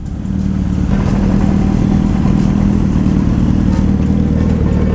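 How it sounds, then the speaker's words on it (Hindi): A Kawasaki ZX-10R sport motorcycle engine running on a city street, a loud, steady close-up engine drone holding at constant revs throughout. "ये इसकी बाइक है कावासाकी ZX 10R ब्रो"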